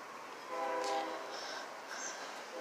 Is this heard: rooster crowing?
no